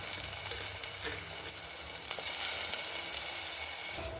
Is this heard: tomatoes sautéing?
yes